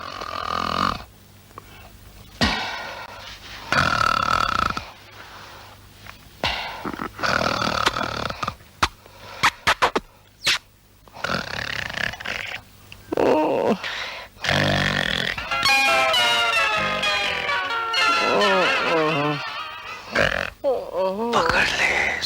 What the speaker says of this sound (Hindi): अमीर लोगों के खर्राटे हैं।